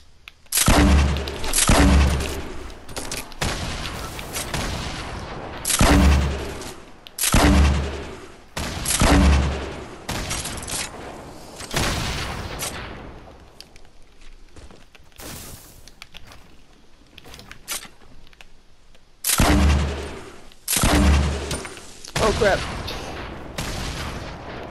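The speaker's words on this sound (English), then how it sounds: "I'm about to spam this guy with a bunch of grenades, man." Grenade blasts in Fortnite, several heavy booming explosions arriving in clusters with quieter gaps between, loud and close, with occasional talk in between.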